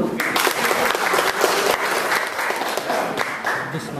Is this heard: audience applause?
yes